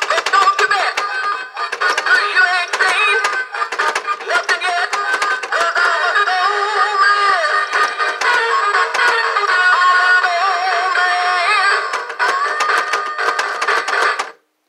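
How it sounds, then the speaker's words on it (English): A 1998 Gemmy singing skull plaque plays a tuneful song while its motor clanks and rattles in quick, irregular mechanical clicks right up close, ending abruptly. "Is loud with the clanking and the motor and everything"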